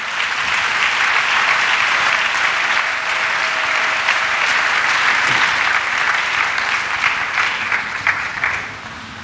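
A church congregation claps for Jesus in steady, dense applause that fills the hall for about nine seconds before easing slightly at the end, with no voices heard over it.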